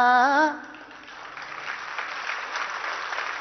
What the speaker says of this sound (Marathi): ह्या टाळ्या साध्या गाण्याला आहेत